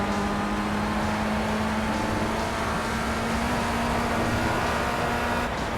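Race car engine at Donington Park in Project CARS, an FR Euro Trophy racing game, droning steadily and loudly throughout with a sustained tone and no voices.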